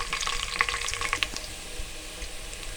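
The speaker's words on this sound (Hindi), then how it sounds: "प्याज को हम ब्राउन कर लेंगे।" Close, steady hot-oil sizzling from onions browning in a pan for dal mash khichdi, with a few light clicks of stirring early on, and no voices.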